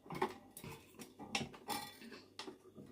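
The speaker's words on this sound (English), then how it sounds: "I'm just putting the whisk attachment in here." A whisk attachment is fitted onto a stand mixer, producing a quiet cluster of light metallic clicks and taps, close by and irregular, in a hushed kitchen.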